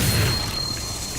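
A Confringo fire-blast spell from Hogwarts Legacy lands as a brief, heavy low boom that opens the moment, followed by a dense rumbling wash of impact noise with no speech.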